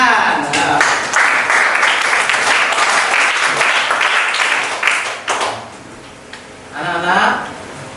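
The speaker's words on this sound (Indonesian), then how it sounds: "Tepuk tangan." Classroom students burst into loud, sustained applause that holds for about five seconds, then trails off into scattered claps and a brief voice.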